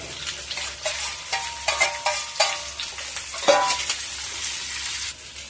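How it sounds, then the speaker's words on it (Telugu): Chopped onions and urad dal stirred and sizzling in hot oil in a pan for a dosa and idli chutney, a steady close frying hiss broken by repeated scraping stirs and light utensil clinks. "ఒక 3-4 కట్ చేసుకున్న ఉల్లిపాయ ముక్కలను వేసుకొని ఫ్రై చేసుకోవాలి"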